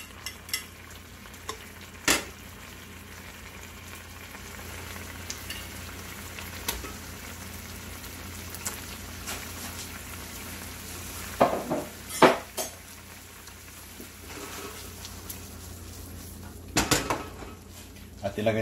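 Fish sizzles as it fries in a pan for red coconut curry, a steady low crackle running throughout with scattered clinks and scrapes of a utensil against the pan.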